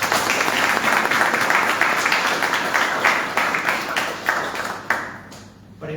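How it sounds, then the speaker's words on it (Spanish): An audience at a book presentation in a parish hall breaks into applause, a full, even clatter of many hands that gradually thins and dies away near the end. "Y pido para ellos un fuerte aplauso."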